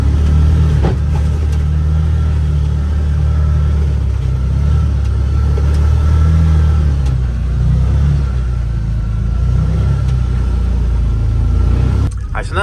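A Can-Am Defender Limited UTV, engine not yet warmed up and in low gear, drives through snow with a loud, steady low engine rumble and cabin noise up close throughout.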